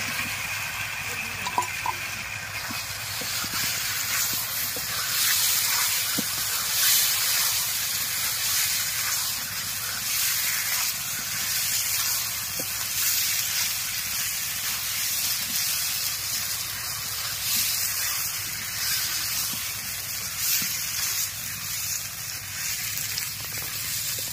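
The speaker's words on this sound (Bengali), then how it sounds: "ভেজে রাখা আলু দিয়ে ভালো করে কষে নিয়েছি" Potatoes that were fried beforehand cook in a spiced onion masala in a pan for a chicken egg and potato curry, giving a steady soft sizzle and hiss throughout with no talking.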